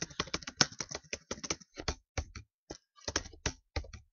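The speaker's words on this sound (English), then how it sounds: "if I really type out loud, it's because I'm using a laptop" Rapid typing on a laptop keyboard, a quick run of close, crisp key clicks in uneven bursts with short pauses between them, heard alone in a quiet room.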